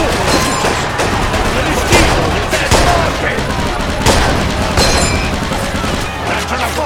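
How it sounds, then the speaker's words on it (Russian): Dense battlefield gunfire rattles continuously, with rapid overlapping shots, machine-gun bursts and crashes close and loud throughout, with shouting voices mixed into the chaos. "Скалетто, стреляй!"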